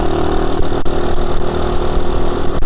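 A 50cc monkey bike engine idles steadily and loud throughout, a continuous mid-pitched drone with faint pulsing and no voices.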